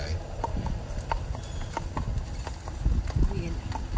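Horse hooves pulling an Amish buggy clip-clop at a steady walking pace over pavement under low rolling rumble, with people talking nearby, in Amish County, Pennsylvania.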